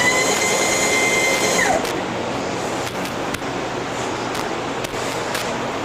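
A milling machine runs steadily with coolant flowing as the bed is raised, a continuous broadband whir and hiss with a whine that drops away early, then a few faint clicks, close and alone.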